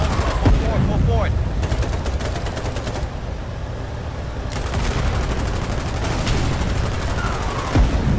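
Gunfire in the Foxhole war game rattles in dense, sustained bursts of rapid shots and machine-gun fire that drop briefly partway through, while voices talk faintly underneath.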